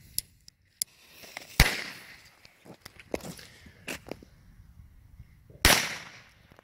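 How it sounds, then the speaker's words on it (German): Eight-shot firecracker salute bangers explode during New Year's Eve festivities in a street, with two sharp, loud bangs several seconds apart and scattered fainter pops and cracks between them. "Also keine Kaufempfehlung hier für die 8-fach-Kanonenschläge."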